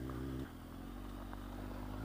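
A Kawasaki Z1000 motorcycle ridden on a dirt road, its engine a steady low droning hum that shifts down briefly early on, close and continuous under wind noise, with no talk.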